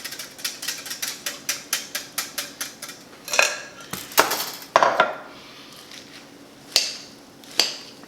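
Greens for a Cobb salad are tossed with dressing in a bowl, starting with a quick, regular run of tapping clinks, then a few louder scrapes and knocks spaced out with quieter gaps between.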